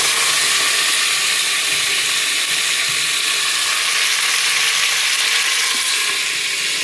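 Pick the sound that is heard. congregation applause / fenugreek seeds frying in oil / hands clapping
fenugreek seeds frying in oil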